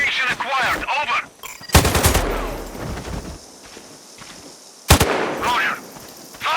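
Two loud, sharp sniper rifle shots in Sniper Ghost Warrior Contracts 2 ring out a few seconds apart, each with a booming echoing tail, while radio-style voices talk around them.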